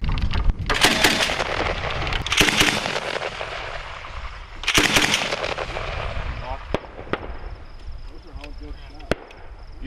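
An MK19 grenade launcher fires rounds down range at Army training, giving several loud booming reports spaced a couple of seconds apart, followed by fainter distant cracks, with people talking nearby.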